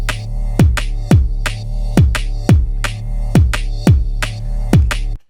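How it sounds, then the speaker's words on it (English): A minimal drum and bass loop built from a deep pulsing bass and kick pattern, with sharp percussive hits falling about every half second over a steady low throb, loud and close with no voices; the ride cymbal is not clearly distinct from the bass hits. "So what I'm going to show you is how to make a little ride loop that kind of sounds like"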